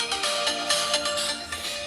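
A Vivo X70 Pro smartphone plays a ringtone through its speaker at full volume, a bright, loud melodic tune with rhythmic pulses heard close and alone.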